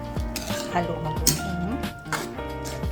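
A utensil scrapes and clinks against a pot while pork paksiw is stirred, with irregular knocks and rattles under ongoing background talk and steady noise.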